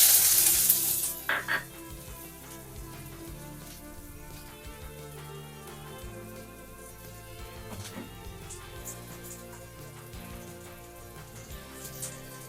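Onion hits hot oil in a wok with a loud initial burst of sizzling that settles into a steady, quieter frying crackle.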